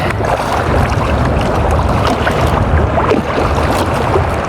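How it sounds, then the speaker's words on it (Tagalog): Heavy waves surge and slosh against a small fishing boat at sea at night, a continuous churning roar with rushing, splashing swells and wind, loud and close. "grabe na lalaki ang alon uy"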